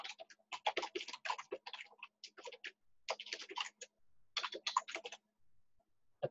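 Rapid bursts of typing on a computer keyboard, close and crisp clatter in short runs separated by pauses, with a harder keystroke for the return key near the end; no talking.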